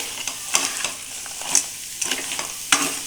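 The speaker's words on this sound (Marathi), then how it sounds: "एक किलो खेकडा हे चांगलं मिक्स करून घ्यायचं मसाल्यामध्ये" Whole crabs, a kilo of them, being stirred into masala in a pan: repeated scraping clanks of a spoon over a bed of sizzling, heard close with no voices.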